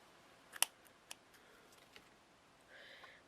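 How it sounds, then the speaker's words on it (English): Scissors snip fabric for a heart-shaped pin cushion: one crisp, quiet cut followed by a few fainter clicks in an otherwise hushed room, with no speech. "I'm just going to snip that"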